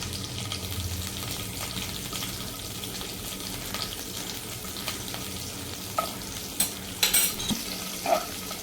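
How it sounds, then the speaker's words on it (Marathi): Chopped green chillies frying in a ghee tempering with cumin and curry leaves, a steady close sizzle with stirring, then a few sharp clinks of a spoon against the pan near the end. "आता या हिरव्या मिरच्या चिरलेल्या त्या पण फोडणीला घालते"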